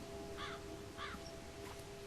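Crow in the video game The Park, heard cawing three times in quick succession, clear and fairly near over a quiet ambient background.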